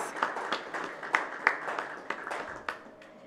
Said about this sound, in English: Loud round of applause, ladies and gentlemen,